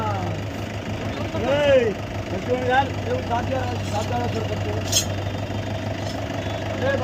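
An old-model Swaraj XM tractor engine idles with a low, steady hum throughout, while voices talk nearby and a brief whistle-like tone sweeps up and down near the start.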